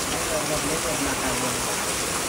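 Heavy monsoon downpour at a rural Konkan home, a dense steady hiss of rain filling the whole clip without a break, loud and close.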